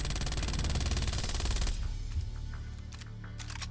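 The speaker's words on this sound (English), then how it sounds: "I did take off the magazine to make sure I only shoot 32 bullets" MAC-10 submachine gun in Black Ops Cold War emptying a 32-round magazine, a loud rapid burst of evenly spaced shots that stops abruptly, followed by a fading echo and faint clicks.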